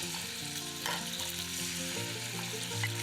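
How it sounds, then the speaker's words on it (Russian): Chicken fillet pieces sizzle and crackle steadily in hot vegetable oil in a frying pan over high heat, a dense continuous frying hiss with occasional stirring clatter and no voices. "Обжариваем филе на большом огне до румяной корочки."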